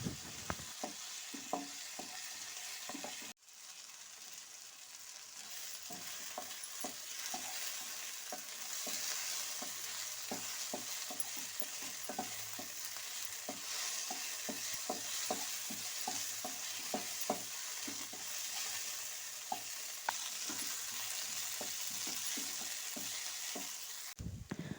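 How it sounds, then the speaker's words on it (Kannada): Two medium tomatoes fry in a pan for an egg masala, giving a continuous close sizzle broken by frequent scraping stirs of a spoon against the pan. "ಇದನ್ನೀಗ ಚೆನ್ನಾಗಿ ಫ್ರೈ ಮಾಡಿಕೊಳ್ಬೇಕು."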